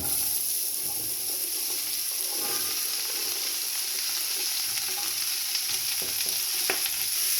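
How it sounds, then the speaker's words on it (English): Celery, carrots and onion fry with a steady, loud sizzle in a pan, with occasional scraping stirs near the end and no talking. "turn your heat down and then add the celery, carrots and onion"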